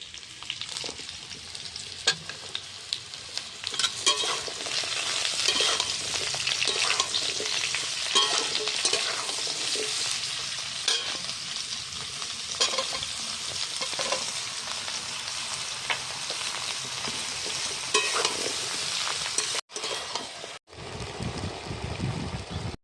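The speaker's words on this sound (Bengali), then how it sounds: "ভাজা ভাজা হয়ে গেছে এবার আমি লাউ দিয়ে ভেজে একসাথে জল দিয়ে দেবো" Bottle gourd and chopped potato fry in a pan with a continuous close sizzle, broken by regular scrapes of stirring, then it briefly cuts out near the end.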